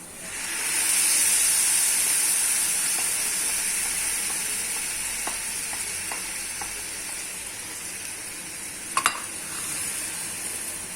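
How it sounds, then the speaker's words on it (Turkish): Chopped tomatoes frying over low heat on top of browned onions for menemen, making a loud, steady hiss and sizzle that slowly fades, with a brief clink of a utensil near the end. "Şimdi domatesimizi üzerine atıyoruz."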